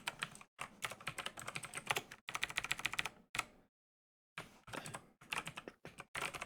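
Rapid clattering keystrokes on a computer keyboard come in dense bursts with brief pauses and one longer silent gap, close and clear with no talk.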